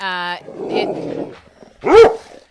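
A dog barks loudly once, a sharp close bark following a stretch of muffled voices and background noise during a live chat; a brief tonal sound opens the moment.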